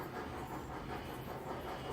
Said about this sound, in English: Let's make this train go.